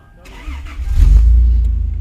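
A Toyota Land Cruiser engine cranks and catches, building into a loud, steady low idle over about two seconds, with voices talking nearby.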